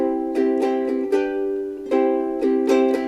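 A ukulele plays an island strum variation, down, pause, then up-down-up, in quick repeated chord bursts with a brief gap in the middle. Bright and close, with no voice.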